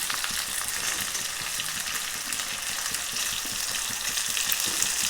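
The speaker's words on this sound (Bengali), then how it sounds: "আলু ডাটা ভাজা হয়ে গেছে এর মধ্যে এবার পেঁয়াজটা দিয়ে দেবো" Onions go into a pan of frying potatoes and drumsticks, producing a dense, continuous hiss of sizzling oil at an even, moderate level from start to finish.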